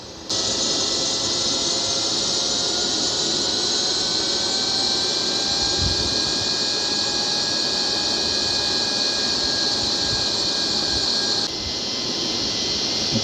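A Boeing 737 MAX 9 in a flight simulator lowers its landing gear on approach, a loud, steady jet engine roar with high whine tones and a few low thumps and rumbles, with no talking.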